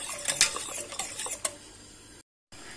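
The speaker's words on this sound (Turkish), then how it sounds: "Tekrardan aynı şekilde sürekli aynı yönde karıştıra karıştıra çikolata sosumu da pişiriyorum." Chocolate sauce stirred in a pot on the stove, a run of scraping and clinking strokes of the spoon against the pot, uneven and close, fading to a low hiss before a brief gap of silence.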